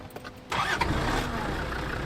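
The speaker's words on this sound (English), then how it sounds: "Fingers crossed when we drive off, the engine starts" An overland vehicle's engine cranks and fires into life after a brief quiet moment, settling straight into a loud, steady, rumbling idle that carries on to the end.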